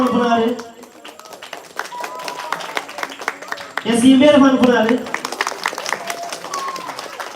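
Crowd applause rattles steadily behind someone speaking loudly, with a burst of louder cheering and clapping midway.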